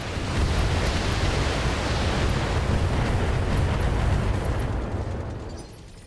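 Weapons fire rumbles in a BattleTech-style mech combat game, a sustained, dense, roaring barrage that stays loud for several seconds before tapering off.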